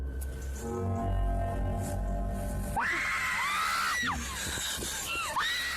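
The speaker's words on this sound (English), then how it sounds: "We are left filled with screams and confusion." Frightened screams from a group of people in a creepy nighttime encounter, starting after a stretch of low droning music, several loud rising and falling shrieks overlapping near the mic.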